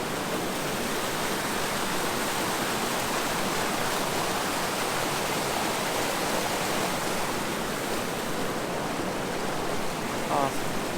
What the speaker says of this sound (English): 50-foot waterfall.